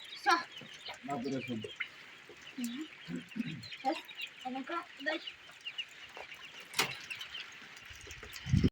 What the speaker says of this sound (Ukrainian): Мої хлопці ловлять курчата